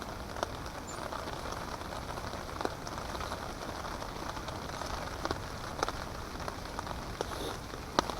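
Steady rain patters on a camping tarp in high, cold winds, a soft continuous hiss broken by scattered louder drops, fairly faint and with no voices.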